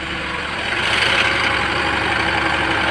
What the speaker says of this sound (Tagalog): tinaas ko lang yung kanyang idle para ano para tumaas yung kanyang minor tapos bumilis yung pump nitong compressor